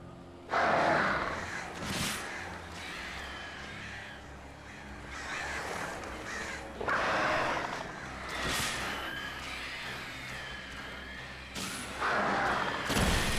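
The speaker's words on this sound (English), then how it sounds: "I have to defeat the birds" Crows in the Alan Wake video game caw harshly and repeatedly as they swoop in to attack, several loud bursts of cawing arriving in waves over a steady rumbling background.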